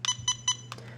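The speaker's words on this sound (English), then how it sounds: "pushing this button down and having it beep once" The controller of a Cheerson CX-10C drone beeps three times in quick succession, crisp and evenly spaced, as it sets high sensitivity. A faint low hum runs underneath.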